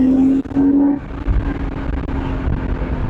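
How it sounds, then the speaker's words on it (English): Induction noise from a BMW E36 held in second gear on tight, twisty roads comes through as a steady in-cabin drone. A clear tone briefly rises above it before the engine note settles into a continuous hum. "And that induction noise is just fantastic."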